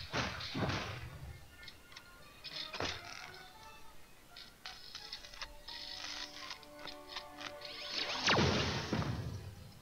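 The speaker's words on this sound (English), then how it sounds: "He does some kicks, and then what happened is his Star-Lord gun gets jammed, and then he shoots it while the enemy is running towards him." Star-Lord's super attack in Marvel Contest of Champions: a burst of kicking thuds, a mechanical click of a jammed blaster, then a loud final gunshot blast, over steady game music tones.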